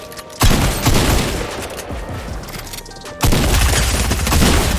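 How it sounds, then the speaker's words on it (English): Dense, loud bursts of rapid SMG gunfire in Fortnite, rattling almost nonstop with a brief pause near the middle before the firing resumes at full intensity. "SMG spam, I'll take it."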